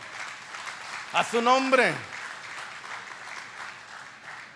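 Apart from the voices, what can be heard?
congregation clapping as an offering of applause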